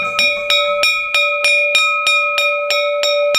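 A school bell in Chhattisgarh rings on reopening day with about ten evenly spaced metallic strikes, each bright and resonant and ringing into the next, close and loud with no talk.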